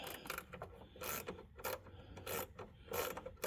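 A wrench turns a bolt on a C5 Corvette headlight motor, giving close, repeated ratcheting clicks and metallic rubbing in short bursts.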